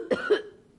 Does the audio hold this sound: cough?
yes